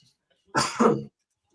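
A single sharp sneeze bursts out close by, short and loud, with silence before and after.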